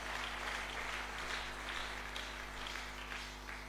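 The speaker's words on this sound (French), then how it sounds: "Acclamons très fort pour le Seigneur" A church congregation applauds loudly for the Lord during a deliverance sermon, sustained clapping from a crowd heard a little way off over a steady low hum.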